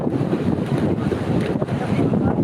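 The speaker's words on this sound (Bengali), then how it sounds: "ঢেউগুলো আসলে পড়ছে কিনারে" Sea waves roll onto the shore at Kuakata beach in a loud, rumbling surge, heavily buffeted by wind noise on the microphone across the whole stretch.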